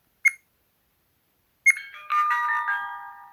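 An AKASO V50 Pro action camera powers on: a short chirp, a pause, another chirp, then a bright multi-tone startup melody that fades slightly, close and clean.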